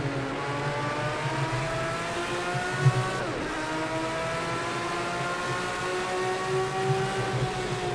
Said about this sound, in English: Downshifting onto the back straightaway.